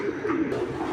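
Tiger grizzle racing pigeons, a large-sized pair, give a brief low throaty coo close by, one continuous murmur with no speech.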